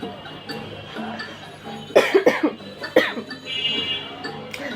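A few harsh coughs burst out close by in quick succession, with a quieter throat-clearing cough after them, all over a soft room background.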